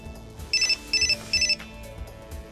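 A phone's text message alert chimes three times in quick succession, a bright, high electronic tone in short bursts over a quiet room hum.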